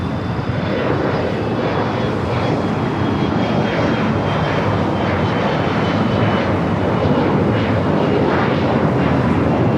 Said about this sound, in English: American Airlines flight 136 heading to London Heathrow, 787-9 Dreamliner.